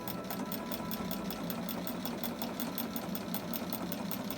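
A sewing machine runs a few stitches in reverse and then stitches forward on fabric, giving a fast, even mechanical chatter with a steady hum that holds constant and close.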